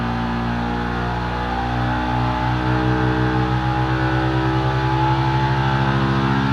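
A Polaris RZR engine held at about 7,000 RPM on a dyno roars loud and constant, a harsh buzzing drone that begins to pulse rhythmically as the load grabs it, with no talking.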